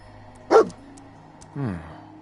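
Dogmeat, the German Shepherd companion in Fallout 4, gives two short barks about a second apart, close and moderately loud over a low game ambience hum.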